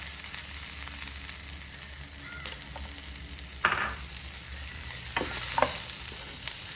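Dry fish and chopped shallots sizzle steadily in a pan while being stirred, with a low hiss throughout and a few sharp scraping clinks of the spoon.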